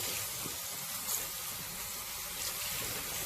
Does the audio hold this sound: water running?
yes